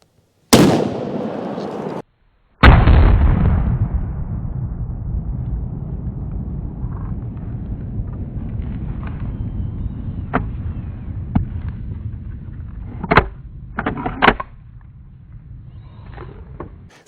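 A 70-year-old Mossberg 185D bolt-action shotgun fires at a melon outdoors, two loud, sharp blasts a couple of seconds apart, each followed by a long rolling echo, then scattered small clicks and faint voices.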